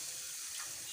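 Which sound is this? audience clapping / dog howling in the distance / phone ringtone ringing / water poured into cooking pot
water poured into cooking pot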